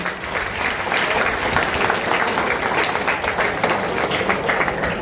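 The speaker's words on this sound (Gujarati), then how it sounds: "તો એના માટે સમાજ માટે એક તાળી વગાડી દો પ્લીઝ" An audience at a career guidance seminar for a Panch Gol Prajapati community in Navsari claps together in sustained, dense applause lasting several seconds, steady and fairly loud throughout.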